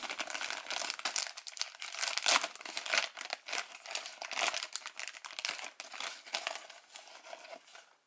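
Plastic sticker sheets for a SO-DO Ride Blade Armor model kit being peeled and handled, giving a close, steady, bright crinkling that rises and falls in loudness without pause.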